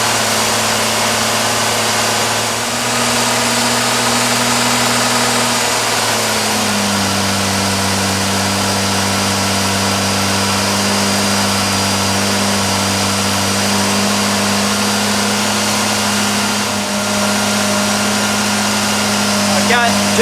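A freshly rebuilt Ford 200 2V inline engine with a Holley Sniper 2300 and Hyperspark ignition runs through its first-start cam break-in. It makes a loud, steady drone, and the pitch settles lower after a few seconds, then holds even.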